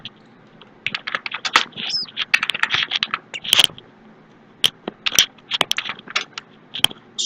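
Rapid bursts of keystrokes on a computer keyboard entering an nslookup command, irregular clusters of close, crisp taps with short pauses between runs, a few sharper key strikes standing out.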